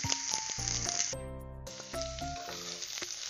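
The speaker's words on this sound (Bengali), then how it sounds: "এবার আমি সজনেগুলো দিয়ে দিলাম। এবার আমি এগুলোকে ভাজতে করছি।" Drumsticks sizzle and crackle in hot oil in a pan, a loud, steady frying hiss with rattling bits throughout and no talk.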